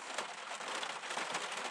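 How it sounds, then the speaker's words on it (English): Heavy rain pours down steadily on a lakeside winter camp at Martins Fork Lake in Harlan, Kentucky, a dense, even hiss of countless drops drumming on surfaces, close and unbroken throughout. "It is pouring the rain, as you can hear"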